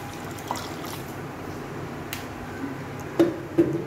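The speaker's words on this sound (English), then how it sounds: "Now I am putting some water" Water poured onto rice to wash away husk and dust, a soft, close trickle and dribble with a couple of sharper splashy drops near the end, quiet and unaccompanied by talk.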